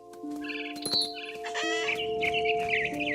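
A mother bird in What Remains of Edith Finch clucks in short, fowl-like bursts over a steady ambient game-music drone, with chirpy calls rising toward the end.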